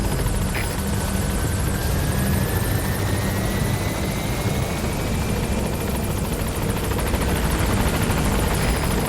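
Pequod helicopter arriving at a landing zone in Metal Gear Solid V: The Phantom Pain: a loud, steady rotor drone with a thumping chop, continuous and close.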